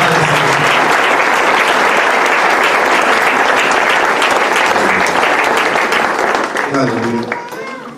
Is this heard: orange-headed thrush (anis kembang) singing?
no